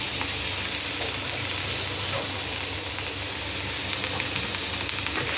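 Onions frying in mustard oil in a home kitchen pan, a steady, dense sizzle with fine crackling spread evenly throughout, moderately close and alone with no voices.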